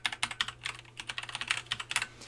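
Rapid, irregular clicking of a computer keyboard as a web address is typed in, quiet and close with no voices.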